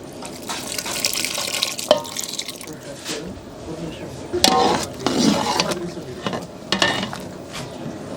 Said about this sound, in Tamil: புளி தண்ணி இதில் சேர்த்துக்கலாம்.